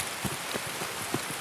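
Rainfall in the video game Escape from Tarkov, a constant wash of rain on surfaces with scattered soft droplet taps and thumps, steady and unbroken.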